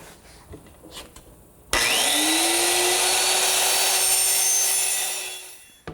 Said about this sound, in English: to trim the ends of both the seat and all the cross members, I'm just going to use my little lightweight circular saw